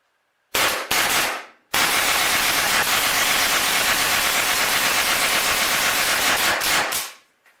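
Autococker paintball gun on a Shocktech Gunfighter 45 frame, Gen 1, firing indoors: two quick shots and then a loud, continuous rapid burst lasting about five seconds, close and with no talk.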